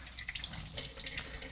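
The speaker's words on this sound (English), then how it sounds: "I'm just gonna dump a little of that water out" Water poured out of a film developing tank during a homemade caffenol process, a light splashing trickle with scattered drips, close and fairly quiet, with no talking.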